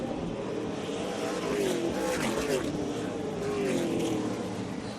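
Dirt-track race cars in an SRX main event at Eldora easing off under a yellow flag, a steady loud roar of several engines with pitch sweeping downward as the field slows, faint commentary underneath.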